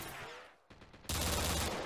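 Gunfire in a shooter game: a steady rattle of shots fades out briefly, then a louder, dense burst of automatic fire erupts close by.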